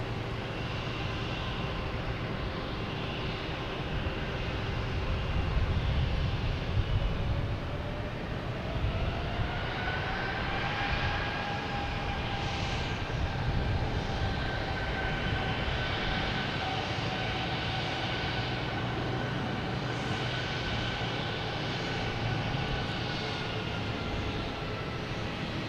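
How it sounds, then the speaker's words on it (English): Jet engines of a Delta Embraer E175 airliner heading to LaGuardia roar steadily at an airport, with a rising whine partway through as the sound swells and holds, a broad continuous rumble at moderate distance. "we also have a Delta and E175 heading to LaGuardia"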